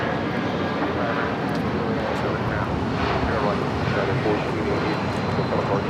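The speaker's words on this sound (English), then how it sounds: "That was United 1488 taking off to Newark on the 757-200" A United Boeing 757-200 airliner takes off at LAX, its engines a steady broadband roar that holds for several seconds at a distance.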